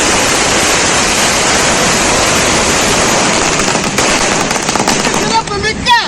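Firecrackers burst in a dense, unbroken crackling roar at a DMK party celebration in Tamil Nadu. The burst is loud and continuous throughout, thinning slightly into scattered cracks near the end.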